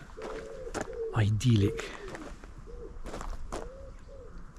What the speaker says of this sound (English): Apart from all the pigeons and doves you can hear.